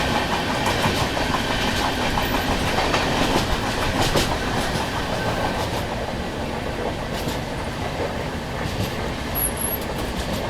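A Janmabhoomi Express passenger train with push-pull WAP7 locomotives rolls along in a constant loud rumble with clickety-clack of wheels over rail joints, heard from on board.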